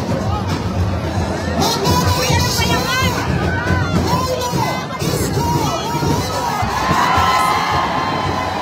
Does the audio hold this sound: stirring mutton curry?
no